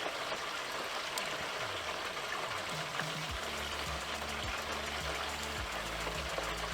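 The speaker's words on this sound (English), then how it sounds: "making sure most of that bubbling stops before you put it all the way in" Whole turkey lowered slowly into hot deep-frying oil, a steady hiss and fizz of bubbling grease with low gurgles underneath, fairly faint and continuous.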